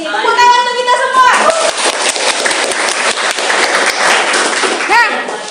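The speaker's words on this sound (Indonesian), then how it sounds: "Tepuk tangan untuk kita semua." Students in a classroom clap together in a loud burst of applause, with children's voices and a teacher speaking around the clapping.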